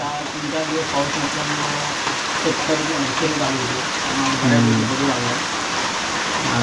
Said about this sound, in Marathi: पावसाने पण हजेरी लावले पाऊस चांगला पडतोय